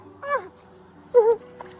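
A dog whimpers and whines in pain after being hit by a police taser during a roadside confrontation, two short high wails about a second apart, fairly close over faint background noise.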